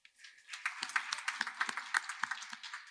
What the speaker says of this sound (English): let's give another round of applause for our Deputy Mayor